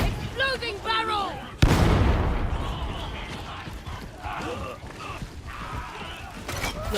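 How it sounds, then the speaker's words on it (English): A barrel blows up with a sharp, heavy blast during a gang gunfight in the Darktide video game, the boom rolling into a long rumbling tail while a voice calls out just before it. "Exploding barrel!"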